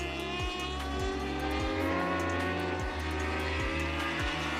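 A racing motorcycle at Kyalami circuit in a ZX10 Masters Cup race, its engine revving loud and near, with repeated sharp drops and climbs in pitch as the rider shifts through the gears in steady rhythm.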